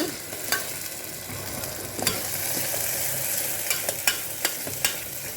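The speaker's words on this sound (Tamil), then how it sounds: "அதை போட்டு ஒரு கலரிடுங்க. ஒரு 2 மினிட்ஸ் நல்லா வதக்கிடுங்க." Paste for a mushroom curry sautéing in a frying pan, a steady hissing sizzle broken by sharp scraping clicks as it is stirred.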